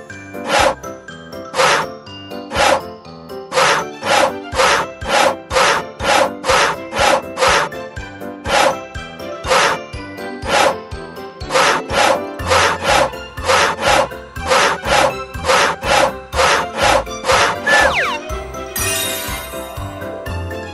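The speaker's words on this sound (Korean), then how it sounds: "왼쪽, 오른쪽 톱질을 해주세요." Wood being sawn in a Pororo carpentry video game: quick, even back-and-forth saw strokes repeat steadily with light tinkling accents, ending in a brief chime.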